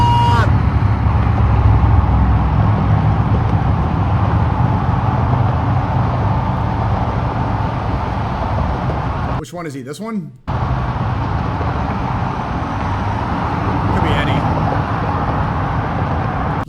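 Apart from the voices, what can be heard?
road traffic in Washington, D.C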